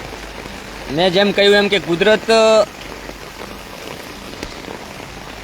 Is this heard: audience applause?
no